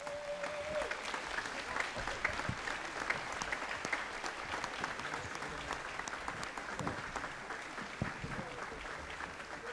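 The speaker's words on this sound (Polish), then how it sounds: "Oklaski dla nich wszystkich." A concert audience applauds the student folk song and dance ensemble "Katowice" at its jubilee performance, a dense, steady roar of clapping from many hands that carries on without letup for the whole stretch.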